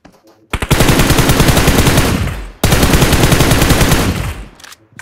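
Automatic gunfire from a mobile battle royale game played on an iPhone 14 Plus rattles out in two long, loud, rapid bursts with a short gap between them.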